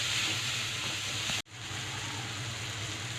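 Masala sizzling as it sautés in a pan for Chettinad egg fry, a steady close hiss of frying with a brief break partway through before the sizzle resumes.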